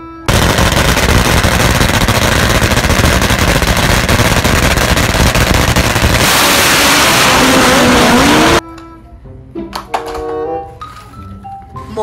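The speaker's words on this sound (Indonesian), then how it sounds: "Motor balap." Racing car sound effect for a toy race car, a loud, harsh, continuous engine roar with a rattling texture that cuts off abruptly, followed by a short burst of tonal, musical sound.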